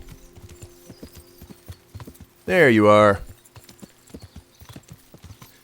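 Steady clip-clop of a horse's hooves on a road in Kingdom Come: Deliverance, a rhythmic stream of light, even hoof beats, with a short burst of a voice partway through.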